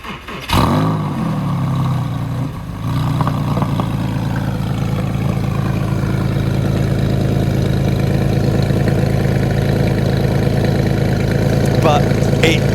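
Porsche 911 997 Carrera 2 engine starts with a brief rev, then settles into a steady, close, throaty idle with a low rumbling hum that continues evenly to the end.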